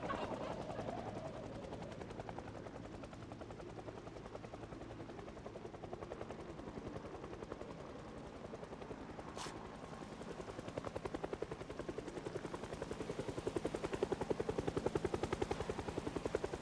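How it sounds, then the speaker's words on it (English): A helicopter in the video game Project Zomboid beats steadily overhead with a fast rhythmic rotor chop, faint at first and growing a little louder toward the end, with one brief sharp burst partway through. "when the helicopter goes away, we'll ditch them and walk away"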